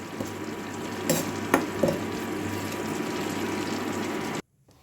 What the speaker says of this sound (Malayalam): ഇഞ്ചി കറിവേപ്പിലയും നന്നായിട്ട് ഫ്രൈ ചെയ്തെടുക്കുക